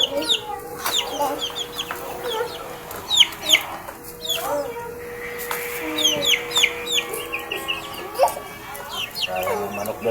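Chickens cluck and call repeatedly in a backyard where a sick bird is being treated with peppercorns, short clucks and squawks scattered throughout, close and fairly loud, with a person talking at times underneath.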